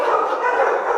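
A stray street dog in Detroit gives a single sustained bark or whining yelp that fills the whole moment, loud and close, with a harsh midrange tone.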